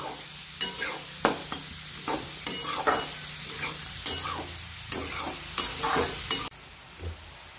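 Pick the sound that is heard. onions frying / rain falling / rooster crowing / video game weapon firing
onions frying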